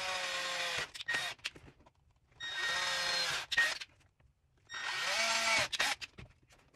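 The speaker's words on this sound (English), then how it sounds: "then start the drilling process" A power drill bores mounting holes into a Toyota Tacoma for a phone mount system, whining loudly and close in three sustained bursts of about one and a half seconds each, with short pauses between them.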